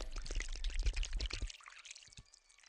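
Fuel glugs into a tank during refueling in the horror game Ice Scream, a close, steady pouring rush that stops abruptly partway, followed by a few faint drips.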